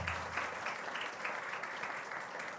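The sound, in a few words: audience applause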